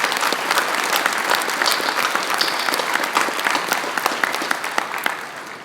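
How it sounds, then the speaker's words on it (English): Steady applause from an audience at an organization's general session, a dense wash of many hands clapping that holds evenly throughout, with no one speaking over it. "he deserves a great round of applause"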